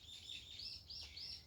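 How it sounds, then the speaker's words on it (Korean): Birds chirp and sing outdoors, with faint, thin repeated tweets at a distance over a low ambient hum and no talking. "새소리가 굉장히 정겹죠?"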